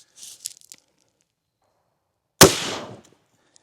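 A single close, loud shot from a 300 Blackout firing an AAC black tip bullet into a gelatin block, a sharp crack with a short rumbling decay, preceded by faint clicks and handling sounds.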